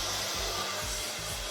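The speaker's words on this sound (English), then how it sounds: "So now we're going to start rough drying our hair." Hair dryer blowing steadily during rough drying of wet hair, a loud, close, continuous airy roar with a low motor hum that wavers slightly as it moves.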